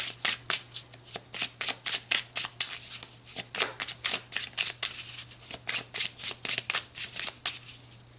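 Tarot cards shuffled by hand in a steady run of crisp riffling bursts, close and fairly loud, about two or three per second, with no talking.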